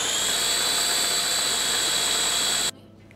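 An electric spice mill runs for a few seconds while an egg salad is being made, giving a loud, steady, high-pitched motor whir close by that stops abruptly, leaving near silence.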